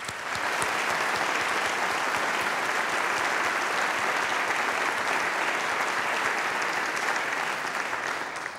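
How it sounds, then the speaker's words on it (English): At a university groundbreaking ceremony for a performing arts center, an outdoor audience gives a steady, full round of applause that holds at an even level for over eight seconds. "Let us again give Tate a great round of applause."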